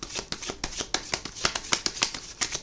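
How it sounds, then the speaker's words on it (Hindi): Tarot cards being shuffled by hand close up, a quiet rapid series of crisp riffling slaps in an irregular rhythm. "लास्ट शफल है"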